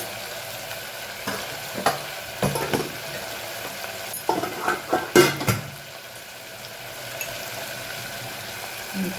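Spices stirred into dal makhani in a hot pan, with soft sizzling and several scraping, clattering strokes of a spoon against the pan, irregular and close, quieter in the final seconds.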